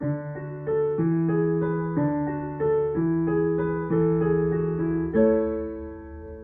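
Piano playing broken chords, notes rolling upward in steady arpeggiated patterns with a chord change roughly every second, clear and close with no voices.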